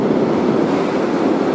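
A night train bound for Vienna runs along the rails, a loud, steady rumble with a constant rolling roar and no break from start to finish.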